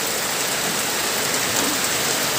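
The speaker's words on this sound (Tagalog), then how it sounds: "Naririnig niyo po yung buhos ng ulan." Early morning rain pours down in a dense, steady downpour, an even wash of drops hitting surfaces close by, continuous and unbroken with no voices.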